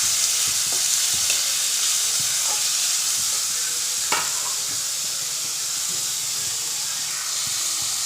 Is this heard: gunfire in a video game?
no